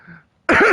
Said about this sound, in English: A nice healthy cough for you.